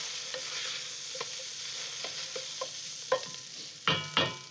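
Caramelized tomato paste being stirred with vegetables in a pot as a base for cauliflower soup, with soft scraping and sizzle, several spoon knocks and two louder clanks near the end, no talking.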